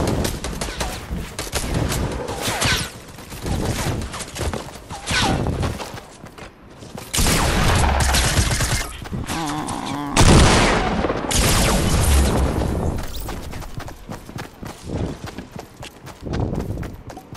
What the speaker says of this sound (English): We're being shot by so many people.